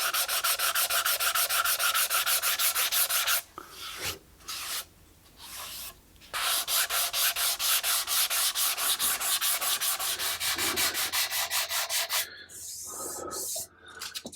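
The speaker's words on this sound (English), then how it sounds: "I think I'm done cleaning up everything and sanding back the grain filler" Sandpaper rubs back and forth over grain filler on a guitar top in long, even strokes, loud and close, pausing briefly twice before the rhythmic scratching resumes.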